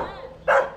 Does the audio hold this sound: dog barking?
yes